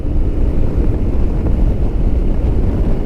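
A steady low engine rumble from a Royal Enfield Himalayan motorcycle mixed with heavy wind buffeting, constant and close throughout, riding along Iowa back roads.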